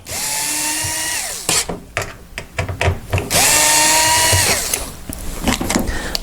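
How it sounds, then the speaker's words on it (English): A power driver fitted with a Phillips bit backs screws out of a heater side panel in two long whirring bursts that rise and then wind down, with clicks and clunks of handling in between. "I'm going to use a power driver with a Phillips head on"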